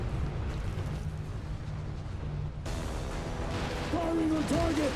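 Weapons fire in the video game Outriders: a dense, rumbling barrage of blasts and bursts, loud and sustained, with a voice speaking over the shooting near the end.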